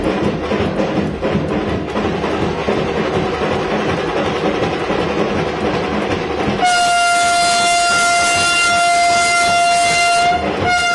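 Vande Bharat train at Madurai railway station: rolling rail noise and wheel clatter at first, then a loud sustained multi-tone train horn sounding for several seconds before cutting off.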